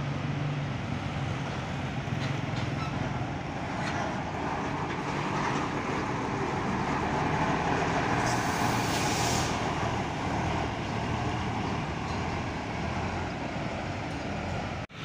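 Buses rumble past at Purabaya Bungurasih bus terminal in Surabaya, a steady, loud, continuous roar of heavy diesel engines and road noise with a brief hiss of air brakes midway, no talk.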